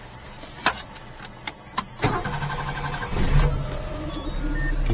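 A Micro Van engine starting: a few sharp clicks and knocks, then the motor catches at about two seconds and settles into a steady idle that builds slightly, close and moderately loud.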